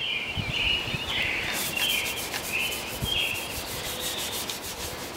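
Abrasive scuffing of the skegs on a Cruise Craft boat before painting: steady, close rasping strokes repeating in an even back-and-forth rhythm for about five seconds, with no talking.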